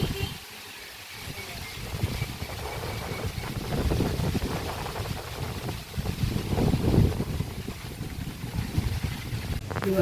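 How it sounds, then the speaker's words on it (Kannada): Strong wind buffets the microphone, roaring and gusting in low rumbling waves that rise and fall throughout. "ಗಾಳಿ ಸಕ್ಕತ್ತಾಗಿದೆ."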